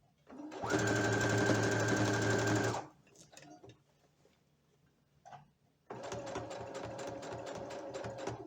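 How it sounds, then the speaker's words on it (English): A sewing machine stitching slowly through the bulky folded fabric of shorts: a close, loud mechanical whir in two bursts with a quieter pause between them. "Feeling with my finger where the fold fabric is and going through, sewing through."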